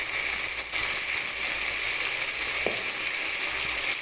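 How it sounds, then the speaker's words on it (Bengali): Tomato fish curry with spices and ground turmeric sizzles in a pan while it is stirred, making a dense, constant frying hiss that stays close and even throughout, with one faint scrape partway through. "এক চামচ হলুদ গুঁড়ো দিয়ে এবার একটু ভালো করে নেড়ে চেড়ে নিলাম।"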